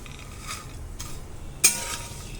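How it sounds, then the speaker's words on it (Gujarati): Boiled mango seed kernels dry-roasting in a pan with black salt, with a faint steady sizzle and a few scraping stirs, one sharp metallic clink standing out near the end. "વ્યવસ્થિત રીતે મિક્સ કરી દો. 10 મિનિટ સુધી શેકવાનું છે."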